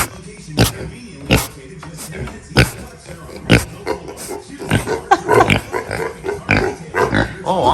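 Pigs on a pig farm grunt and squeal in short, irregular bursts, some sharp and loud, others low and rumbling, close by with no talk over them.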